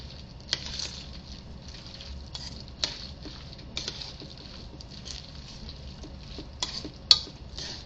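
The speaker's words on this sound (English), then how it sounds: "We're going to go ahead and mix that around." Faint scraping and occasional light clinks come from a spoon stirring vegetable pancake batter with cumin in a bowl, quiet and irregular with no voices.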